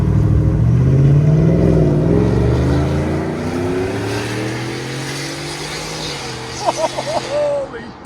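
A 725 hp supercharged Ford F-150 with a 5.0L V8 and Flowmaster Flow FX exhaust revs loud and close, rising in pitch and then settling into a sustained drone, with a voice briefly heard near the end.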